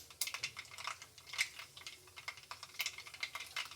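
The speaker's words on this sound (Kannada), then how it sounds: "ಸಾಸಿವೆ ಸಿಡಿತಾ ಇದೆ." Mustard seeds splutter in hot oil as tempering for bisi bele bath: rapid, irregular little pops and crackles, quiet and close, bursting in quick clusters.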